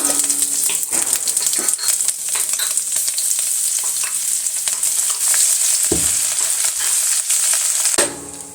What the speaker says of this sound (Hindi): अब जो बटर है वो हो गया है गरम। अब इसमें लहसुन और अदरक जो है वो मैंने ऐसे कूट लिया है,